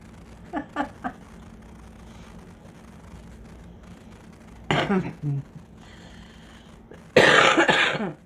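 A few short coughs early on from a longtime smoker, then a louder burst of harsh coughing near the end, close to the mic, with a brief voice sound in between.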